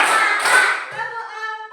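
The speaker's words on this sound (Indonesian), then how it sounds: "Ayo tepuk dulu kita." A class of schoolchildren claps together in a short, loud burst, and a voice follows right after the claps.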